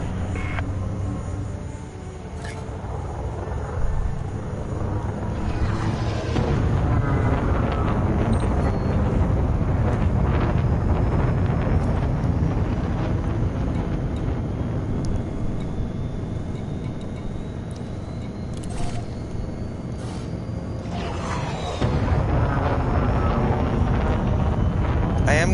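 A spaceship lifting off in the space game Elite Dangerous: a deep, sustained thruster roar with rushing, wind-like noise and occasional higher whines and clicks, steady and loud throughout, while a synthetic ship voice speaks over it.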